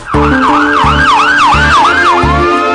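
Ambulance siren wailing in a steady up-and-down yelp, loud and close, cycling about every two-thirds of a second over a low, pulsing horn-like tone and road rumble, with no talking.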